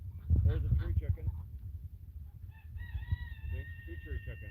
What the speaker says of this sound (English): There's another tree rooster.